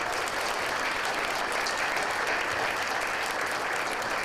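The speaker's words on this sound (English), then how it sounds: "Let's give them all another round of applause." An audience applauds at a birding awards brunch. The clapping is loud, dense and unbroken for several seconds, with no voices over it.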